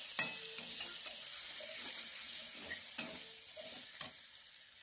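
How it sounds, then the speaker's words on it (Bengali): Onions fry in a pan with a steady close sizzle while being stirred, sharp scraping clicks of the utensil breaking through every second or so, with no talking. "চলো পেঁয়াজটা ভালো করে ভেজে নিই"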